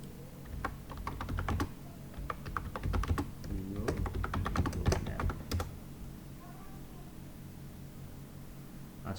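Rapid bursts of computer keyboard typing as a search query is entered, crisp key clicks in quick uneven runs with short pauses, close and fairly quiet, then fading to near silence at the end.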